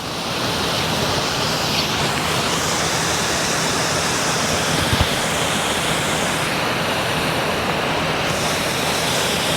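A small creek runs and splashes steadily in winter cold, a dense, continuous rushing wash of water heard close up and alone throughout.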